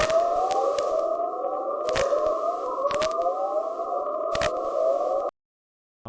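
Space plasma waves recorded by a probe in Earth's magnetosphere and played as sound: a steady banded tone with repeating rising sweeps and a few sharp broadband clicks, ending abruptly in silence.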